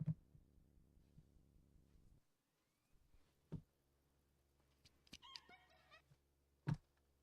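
A cat meows faintly in the adventure game The Curse of Monkey Island, a short call set among soft thuds and a low, quiet background hum, with no talking.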